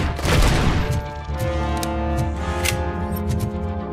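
Gunfire from the video game RoboCop: Rogue City crackles in rapid bursts with dense shot transients and a low rumble, loud and continuous across the short clip.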